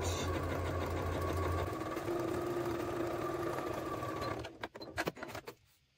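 A sewing machine stitches a parallel seam with its presser foot down, a steady fast whirring run that stops near the end, followed by a few soft clicks and handling sounds.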